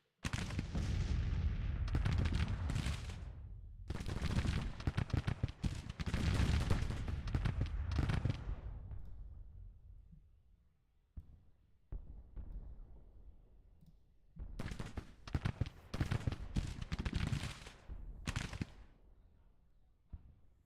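Artillery bombarding in Grand Tactician: The Civil War, repeated heavy booming volleys rolling and overlapping, loud bursts separated by quieter gaps, with no talking.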